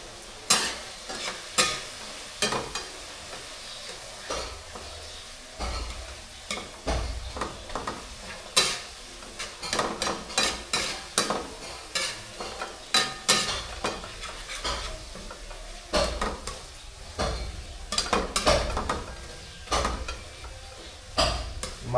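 Tomatoes are stir-fried and mashed in a pan, a steady sizzle under repeated scraping and tapping of a utensil against the pan, close and fairly loud, without talk.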